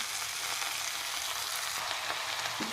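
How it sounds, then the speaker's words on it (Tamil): Siru keerai (amaranth greens) sizzle and crackle in a pan while being stirred, a steady hiss with soft scraping movements near the end. "கீரை சேர்த்துட்டோம், கிளறி கொடுத்துருங்க."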